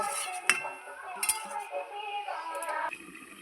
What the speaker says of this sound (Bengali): আমি ঢাকা খুলে দেখে নিচ্ছি আমার সেদ্ধটা কতদূর হয়েছে